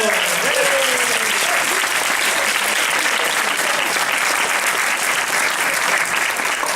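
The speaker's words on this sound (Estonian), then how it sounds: "Teeme plaksu!" An audience at a 2014 Estonian improv theatre-sport show claps after a scene, a dense, steady round of applause that stays even from start to finish, with a faint voice at the very beginning.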